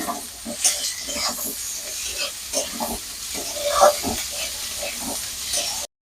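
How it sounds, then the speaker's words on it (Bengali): Chopped potatoes tossed into frying onions in a pan, crackling sizzle with repeated stirring scrapes and soft clatter up close, no voices. "পেঁয়াজটা ভালোভাবে ভাজা হয়ে গেছে, এবার আমি আলুর কুচিগুলো দিয়ে দিচ্ছি আগে।"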